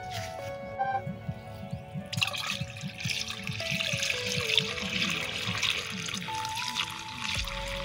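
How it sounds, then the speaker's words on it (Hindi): Water pours and splashes steadily into a container while pesticide spray is mixed for use on village farmland in West Bengal, with a running, gurgling flow lasting several seconds amid faint background tones. "पानी डालते डालते देख लीजिए"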